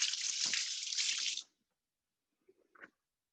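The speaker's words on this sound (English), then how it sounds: "All right, just going to rinse my hands." Tap water runs steadily from a kitchen faucet as hands are rinsed during a cooking class, a clear hiss lasting over a second before cutting off, followed by a few faint clinks.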